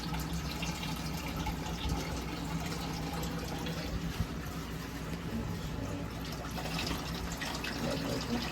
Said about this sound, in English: That's a lot of water that we're dropping in.